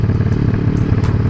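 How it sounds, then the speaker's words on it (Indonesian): A motorcycle rumbles close by with a steady, loud low engine drone and light clatter, running continuously without a clear rise or fall. "ngerti ana motor kok nyebrang bae"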